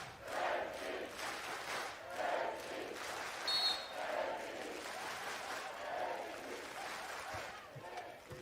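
Spectators at a men's beach volleyball gold medal match in Ostrava cheer and shout in repeated bursts, a lively crowd rising and falling between rallies without any commentary.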